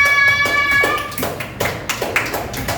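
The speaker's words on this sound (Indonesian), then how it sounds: "Beri tepuk tangan kepada Mbak Ella" A small school class claps for a student during a microteaching lesson, a short ringing tone fading out as a few scattered, uneven hand claps follow close by.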